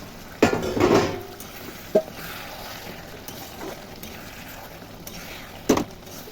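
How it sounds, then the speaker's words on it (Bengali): Metal clanks of a lid lifted off a cooking pot of muri ghonto, a loud clatter early on followed by a couple of lighter taps and another clank near the end, close with a quiet room between. "এবার ঢাকাটাকে একটু খুলে দেখি কীরকম হয়েছে"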